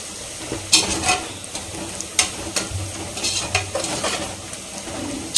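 Onions frying in a pan for chicken biryani, a crackling sizzle broken by several scraping stirs and light clatters of the utensil against the pan, close and fairly loud, no speech.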